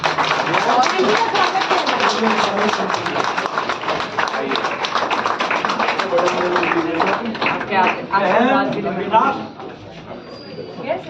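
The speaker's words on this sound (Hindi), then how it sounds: "एक बार जोरदार तालियों के साथ" Crowd clapping at an outdoor BJP political rally welcoming a candidate in Patel Nagar, Karol Bagh, Delhi; dense, loud, continuous applause mixed with shouting voices and chanting, fading slightly near the end.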